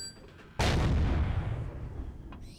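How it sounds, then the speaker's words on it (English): An explosive charge detonates in the space survival game Empyrion Galactic Survival: one sudden, loud, close blast that rolls into a long, rumbling decay. "Let's set a charge and see what happens."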